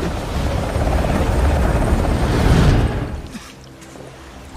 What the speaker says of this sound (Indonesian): Sugar, Kenny, Bishop, dan Cooper kemudian mulai terjun dari helikopter.